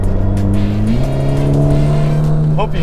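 A Ferrari Roma engine revs steadily with a low, throaty drone that climbs in pitch, close and loud, with a voice faintly underneath.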